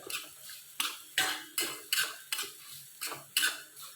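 A spoon scrapes a pan in about nine rhythmic strokes, up close, with a faint sizzle of grated coconut dry roasting underneath.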